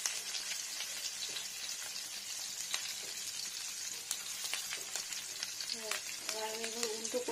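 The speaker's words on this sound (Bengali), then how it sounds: "এই দেখুন কত সুন্দর ভাজা যাচ্ছে" Fish roe sizzling steadily in a pan with onion and garlic, a continuous close frying crackle with scattered pops and stirring scrapes, plus a few brief tonal clinks near the end.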